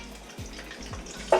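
Onions and garlic frying in melted fat in a pot, a soft steady sizzle with a few low stirring knocks and a brighter hiss flaring up at the end.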